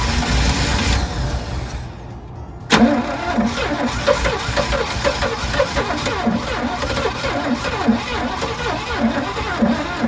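A 1986 GMC Sierra truck engine with a suspected fuel pump fault cranks loudly and roughly in a steady rhythmic churn, briefly pausing before a sharp restart and continuing to turn over close by.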